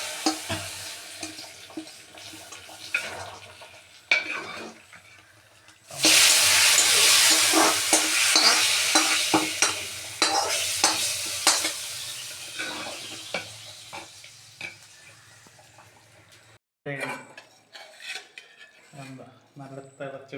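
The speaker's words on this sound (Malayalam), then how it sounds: "നല്ല തിളച്ചുകൊണ്ടിരിക്കുകയാണ്." A curry of jackfruit seeds and raw jackfruit in roasted ground coconut bubbles in a pot while a spoon scrapes and stirs it, with a loud burst of sizzling midway, then quieter clinks and scrapes toward the end.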